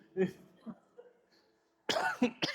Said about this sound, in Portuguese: Eu até tossi aqui.